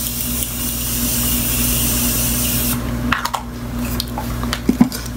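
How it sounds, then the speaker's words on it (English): Morphe setting spray misted onto a face: a steady, close hiss from an aerosol-style bottle held for nearly three seconds, then stopping, followed by a few soft clicks and rustles. "And now I'm just gonna spray my face with the Morphe setting spray."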